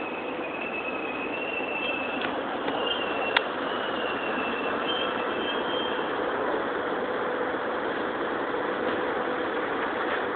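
A train rumbles past at a slow crawl, a steady low roar with faint high metallic squeals from the wheels and one sharp click partway through.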